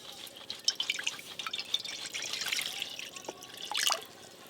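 Water pours into a cooking pot for boiling chickpeas, with a soft trickle and irregular drips in a home kitchen that build to a brief louder splash near the end.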